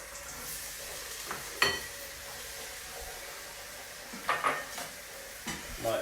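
Onions starting to fry in butter in a pan for Scotch eggs, a quiet steady sizzle with a few sharp clinks and scrapes of a utensil against the pan, no talk.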